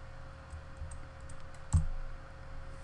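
Quiet keystrokes on a computer keyboard entering claim data for a mining game, a sparse scatter of soft clicks with one firmer tap near the middle, close and alone.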